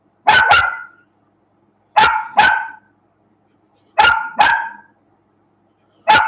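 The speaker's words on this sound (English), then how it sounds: "What are you barking at?" An indoor dog barks in three pairs of sharp, loud, close barks spaced about two seconds apart, then starts a fourth, with near silence between bursts.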